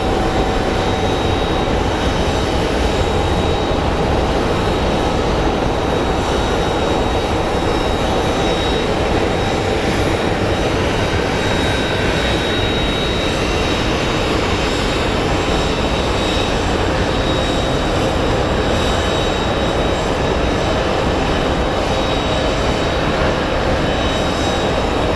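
A steady, loud roar of an Embraer jet climbing out after takeoff from Phoenix Sky Harbor, a constant broadband rumble with a faint whine on top, unbroken and without speech.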